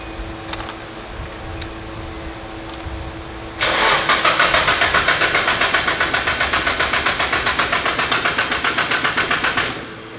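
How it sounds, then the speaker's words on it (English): Drift car engine cranks as the starter whirs in a rapid rhythmic chug for several seconds before catching, preceded by faint jingling and clicks, loud and close throughout. "the next clip should be the car attempting to start and actually starting up and sounding pretty"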